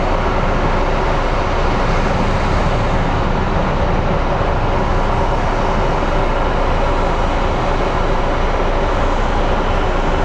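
A steady, loud roar of jet engines fills the whole stretch, a broad rumbling wash that holds constant without a break, as an airliner lands on runway 25 Right at Phoenix Sky Harbor International Airport.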